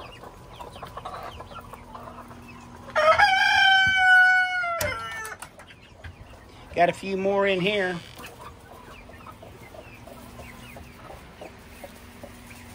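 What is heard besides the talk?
chickens clucking in a hen shed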